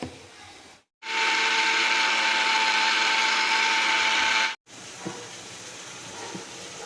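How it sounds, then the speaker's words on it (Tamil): A mixer grinder whirs loudly at a steady high pitch for about three and a half seconds as it grinds coconut into a thick paste. It cuts off abruptly, followed by quieter kitchen noise. "தேங்காய் நல்லா திக்க அரைச்சிக்கினேன்"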